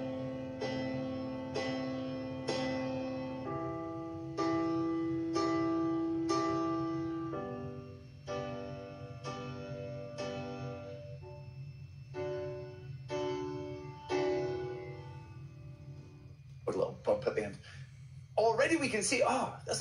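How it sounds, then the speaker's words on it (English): Piano melody played with the sustain pedal, a series of notes and chords ringing into one another over a steady low background hum, ending with a voice speaking. "when we add the pedal, it joins our notes together so we don't get this broken sound"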